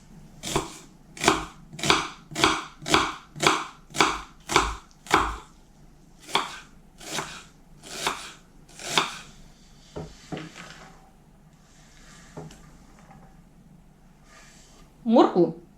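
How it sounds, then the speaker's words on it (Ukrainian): Onion and carrot chopped with a knife on a board in a home kitchen, a fast run of sharp, close, evenly spaced chops, then slower scattered cuts and faint clatter, with a louder knock at the end. "Наріжемо тепер цибульку та морковку."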